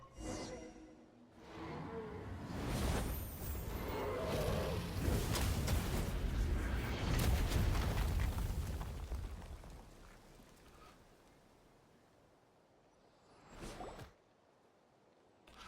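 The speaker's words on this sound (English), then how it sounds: "As an enormous explosion rings out, you all slide to the bottom amidst slugging rubble and sand" A huge explosion in Genshin Impact followed by sliding rubble and sand, with a loud broadband roar swelling over several seconds, then fading into softer settling debris and a brief later burst.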